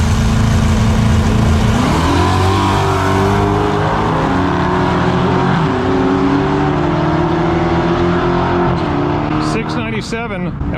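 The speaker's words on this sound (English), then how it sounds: "Alex is gonna give the Hellcat the move" A Dodge Hellcat launches in a drag race with a loud V8 roar, revving up through rising engine tones over several seconds before the sound fades. An announcer's voice is heard over the engine.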